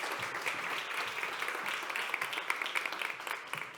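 Audience applause at a National Atopic Dermatitis Day event, steady clapping from a seated crowd heard at moderate distance and sustained throughout.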